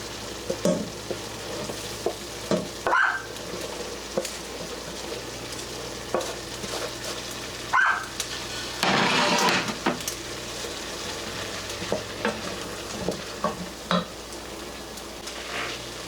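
Ground hamburger meat stirred into a pot of tender cooked vegetables for hamburger soup, with a low steady sizzle, scattered scraping and clinking from the spoon, and a brief louder stirring burst partway through.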